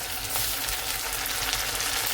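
Ginger garlic paste sautéing in a pan for Konkani egg curry gives a steady, dense sizzle that holds even and close for the whole stretch, with no voices.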